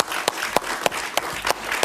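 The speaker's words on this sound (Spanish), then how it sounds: "Un aplauso para él, por favor." Studio audience applause on a Spanish-language talk show. A handful of sharp, evenly spaced claps stand out over a softer wash of clapping, close and moderately loud, with no talk.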